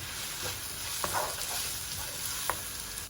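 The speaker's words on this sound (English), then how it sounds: "I'm going to add the chopped up onions and cook this for 7-8 minutes" Chopped onions frying in a hot pan for a vegan aubergine moussaka, an even close hiss with occasional soft stirring taps, no voices.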